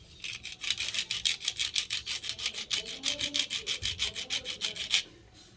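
A flower seed is scraped back and forth against a hard surface in quick, even strokes, about twenty rasping passes in a steady rhythm, close and fairly quiet.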